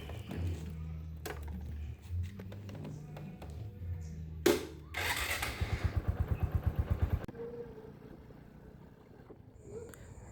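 A Suzuki Shogun 125 SP FL motorcycle engine idles with a low putter, then a rapid rhythmic chugging as the throttle is worked, mixed with clunks and handling noises nearby.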